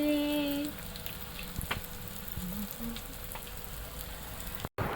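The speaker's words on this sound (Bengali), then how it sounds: "এই যে আমরা ডিম ভাজি করছি, ডিম ভাজি করছি" Eggs fry in a pan with a soft, steady sizzle that stays faint and close, with a brief louder burst at the start and a short dropout near the end.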